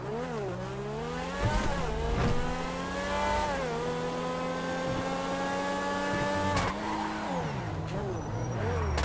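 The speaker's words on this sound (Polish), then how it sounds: "Słuchajmy, jak ten samochód w ogóle brzmi." A Grotti X80 Proto hypercar in GTA Online revs and shifts, its engine note climbing and dropping through gear changes, with occasional tire squeal and talk over the car sound.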